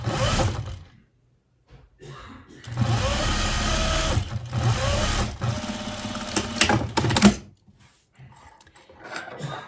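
Sewing machine running in bursts of small stitches through loosely woven wool for a cloche hat, steady whirring runs separated by brief pauses and quiet handling.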